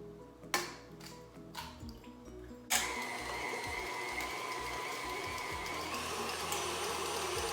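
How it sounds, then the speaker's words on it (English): An electric mixer switched on high partway through, beating a Hungarian kolach batter with one egg added: a few clicks and knocks, then a loud, steady whirring drone that holds without people talking over it. "I'm going to put my mixer on high"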